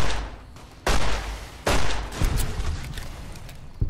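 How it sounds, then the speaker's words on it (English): Gunshots in the video game Fallout: New Vegas, two sharp, loud blasts about a second apart, each fading into a rumbling tail, followed by fainter distant shots and rumble. "we'll aim a couple of shots at this one"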